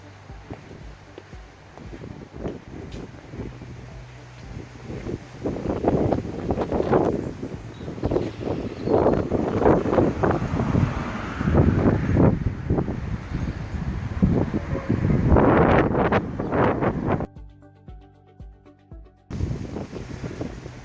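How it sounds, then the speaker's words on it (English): Strong gusty wind buffets the microphone on a summer hillside near the Mendip Hills at Banwell, roaring in loud irregular surges before easing off toward the end, with no talk. "it's a windy day here in Banwell near the Mendip Hills"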